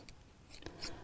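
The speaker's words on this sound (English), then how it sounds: "I'm just going to trim those ends off" Scissors snip through fabric ends while trimming a sewn bag, giving a couple of quick, quiet cuts up close.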